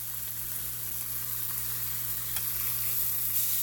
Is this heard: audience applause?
no